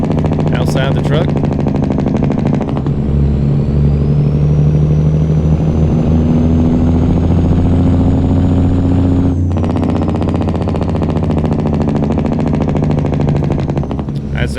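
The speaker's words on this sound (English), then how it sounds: "This will be the full-out Jake brake." Cummins N14 Jake brake on a truck in a driving video game, heard from outside: a loud, continuous low rumbling drone with a whistling tone over its middle stretch before the pitch settles back.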